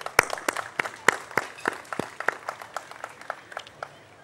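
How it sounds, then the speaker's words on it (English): Scattered audience applause at a formal ceremony with a Pakistani minister, sparse individual claps in an uneven rhythm, a few sharp and close, the rest lighter and thinning out. "I think they deserve a big applause."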